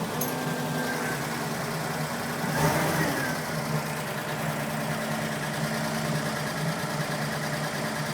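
An engine with a choke problem runs at a steady, slightly high idle, a continuous low hum with a brief louder swell about two and a half seconds in, then settling back to an even drone.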